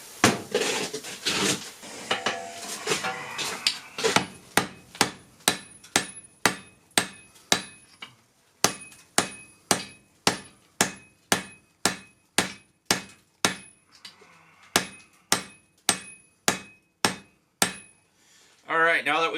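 Hand hammer blows flattening a Damascus steel billet at a forge, a steady run of about twenty sharp, ringing strikes in even rhythm, close and loud, after a brief stretch of heavier clanging at the start.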